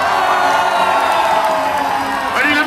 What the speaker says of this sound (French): On n'a pas entendu le tonnerre d'applaudissements, s'il vous plaît.